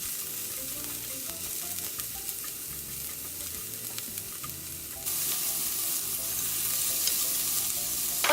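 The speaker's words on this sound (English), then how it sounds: "Put the cabbage," Cabbage fries in a pan for yakisoba, a steady loud sizzle with stirring scrapes throughout and a surge in intensity toward the end.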